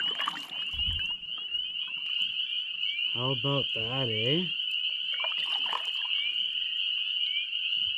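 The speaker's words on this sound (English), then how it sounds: "Those are crickets for sure." Loud, steady high-pitched cricket chirping fills the background throughout at a Crown Land campsite in Ontario, Canada, with a voice speaking briefly over it.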